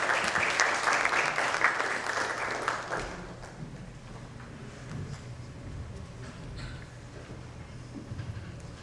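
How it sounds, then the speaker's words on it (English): Conference audience applauding a panel at a healthcare and medical tourism conclave in Mumbai; a loud burst of clapping for about three seconds, then dying down to faint scattered claps and room noise. "Ladies and gentlemen, may I have your applause, please."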